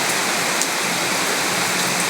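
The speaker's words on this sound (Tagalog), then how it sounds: "Lumalakas ang ulan." Heavy rain pours down in a dense, constant hiss, loud and close, with no voices or breaks.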